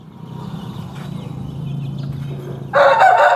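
A big black native Kattu Rasangi rooster crows loudly and close, a single strained call bursting in near the end after quieter farmyard background noise.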